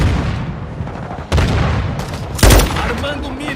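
Dense gunfire and booming grenade explosions fill a Call of Duty war match, loud and continuous. A heavy blast hits near the end, and voices talk under the battle.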